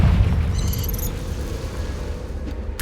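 A fire spell explosion in a wizarding video game sets off a deep booming rumble that fades into a sustained low roar, with a brief crackle of higher sparkle early on.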